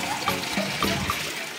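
Water running from an outdoor tap as people fetch water below after the supply upstairs failed, a faint continuous splashing trickle with small gurgles.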